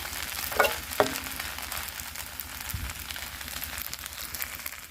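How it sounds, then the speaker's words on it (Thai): Vegetables being stir-fried in a pan give a steady sizzle throughout, with a couple of sharp utensil scrapes or clinks near the start and no talking. "อันนี้ก็ผัดเสร็จแล้วนะคะ"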